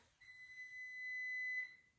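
A kitchen oven timer sounds one continuous high electronic beep lasting about a second and a half, clear and steady against a quiet room.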